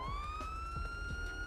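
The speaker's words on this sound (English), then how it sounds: "you can recycle the siren with your" A police car siren in the GTA5 video game wails as a faint steady tone rising slightly in pitch, heard alone at low volume.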